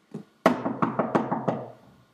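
Knocking on a locked door: a single soft tap, then a quick run of about seven firm, evenly spaced knocks, close and resonant, with no talk over them.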